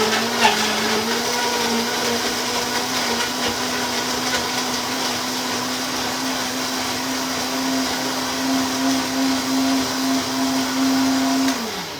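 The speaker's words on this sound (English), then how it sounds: "Let's blend it. It's gonna be loud." A kitchen blender purees soup with a steady, loud whirring hum that holds evenly for about eleven seconds, rises slightly in pitch near the end, then cuts off.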